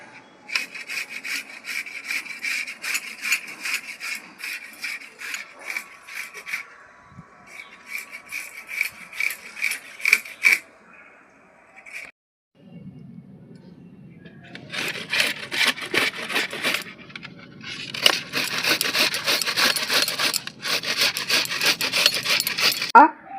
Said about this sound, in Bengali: আমলকিগুলো আমি ঘষে নিচ্ছি